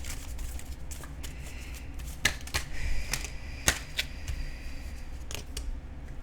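Tarot cards are shuffled and drawn by hand, giving soft riffling with a few sharp snaps and taps over a steady quiet room hiss, close and fairly faint, with no talking.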